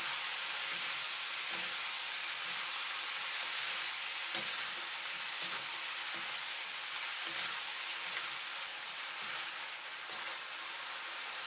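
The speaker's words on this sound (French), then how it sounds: "J'ajoute le chou sauté. Je remue pendant 30 secondes." Beef and Chinese cabbage stir-fried in a hot pan give a steady, even sizzle with faint scattered pops and light stirring scrapes, constant throughout with no talk.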